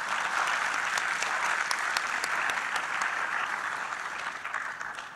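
A conference audience applauds after a panel presentation on social infrastructure and tourism, a dense, even burst of many hands clapping that holds steady and thins slightly near the end.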